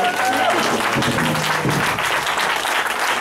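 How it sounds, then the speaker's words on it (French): A church congregation in Aachen, Germany claps steadily and loudly throughout, forming a dense, sustained wash of applause with faint voices mixed in. "give a clap of Jesus."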